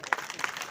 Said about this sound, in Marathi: आपापल्या शेजाऱ्याकरता टाळी वाजवा एकदा.